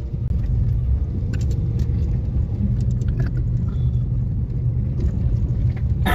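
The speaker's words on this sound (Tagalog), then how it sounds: "Lakas talaga ng pwersa niya, oh. Konting apak ko lang sa accelerator," A 2019 Honda CR-V diesel pulls uphill with a steady low engine rumble and road drone heard from inside the cabin, with faint small clicks over it.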